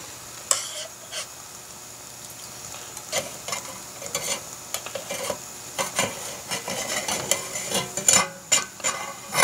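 A Trangia alcohol stove burns with a steady, close hiss and crackle, broken by scattered sharp ticks and soft clinks of pot gear, with no talking.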